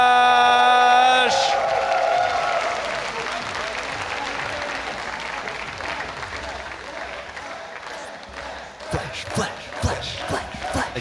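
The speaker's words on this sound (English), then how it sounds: "The crowd here absolutely love Flash" A large live crowd at a StarCraft II tournament semifinal between Flash and Taeja cheers and applauds loudly, the roar swelling and then easing to a steady din, with a commentator's voice over it and scattered sharp claps and whoops near the end.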